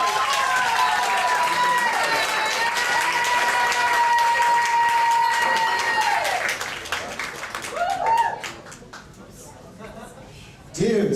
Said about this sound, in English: I want you to give a nice round of applause to Miss Tammy TwoTON